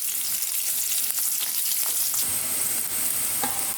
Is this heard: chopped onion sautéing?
yes